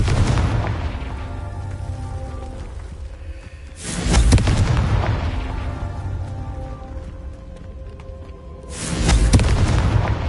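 Spell blasts from the Confringo fire spell in the Hogwarts Legacy video game: two loud booming explosions several seconds apart, each with a rumbling tail, over continuous game background sound.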